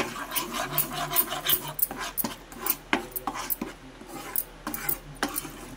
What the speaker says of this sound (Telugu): వేసుకొని నిదానంగా నెయ్యి అంతా పిండి అంతా కలిసిపోయేలాగా కలిపేసుకోవాలి.